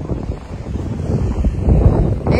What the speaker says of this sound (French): il y a du vent, il y a tramontagne ce week-end